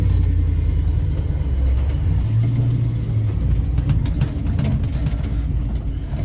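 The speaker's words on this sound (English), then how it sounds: "So we're gonna go hook up this trailer now and back into the barn." Vehicle hooking up a trailer and backing into a muddy barn area, a loud continuous engine rumble close by with a brief rise in pitch partway through, and no talk.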